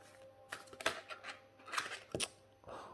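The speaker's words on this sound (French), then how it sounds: "voir comment les cartes se mélangent." Tarot de Marseille cards are shuffled by hand in a few quiet bursts of soft riffling and papery slaps, close but faint, with a low room hum underneath.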